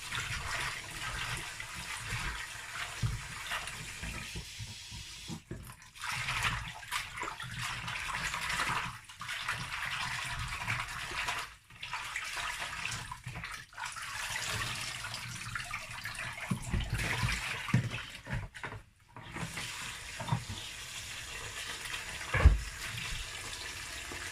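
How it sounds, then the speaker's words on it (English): Ugu leaves are rinsed under running water in a kitchen, a close, continuous gush and splash that breaks off briefly several times as the leaves are moved, with a light knock near the end. "Okay, so now is the ugu. I'm going to rinse."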